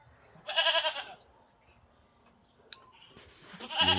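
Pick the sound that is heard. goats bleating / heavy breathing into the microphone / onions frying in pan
goats bleating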